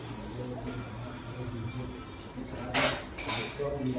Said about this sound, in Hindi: बिटिया की खुशी में बर्तन धुल रहे हैं।